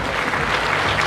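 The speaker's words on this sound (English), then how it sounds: "received the applause." A large crowd of nearly 6,000 at a rugby legends game applauds in a continuous, even roar of claps, heard from a distance with no break.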